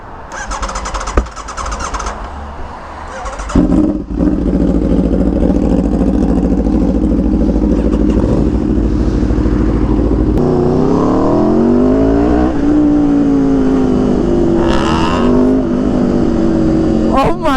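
A motorcycle with an extremely loud exhaust coughs, starts and settles into a thunderous, close idle, then revs up in rising, roaring sweeps, with people talking over it.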